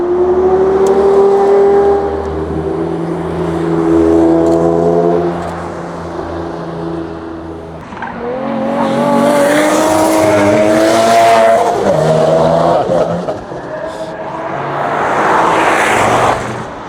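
Engines rev hard and rise and fall in pitch as cars, including Bentleys, pass close by on a track day at the Magarigawa Club in Japan, with brief tire squeals between bursts of acceleration.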